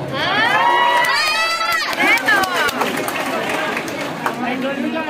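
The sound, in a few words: pageant audience cheering and applause for Julia Barreto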